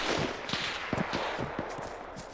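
Gunfire in Arma 3 during a joint military operation, a run of rapid, evenly spaced shots at moderate distance against a noisy background.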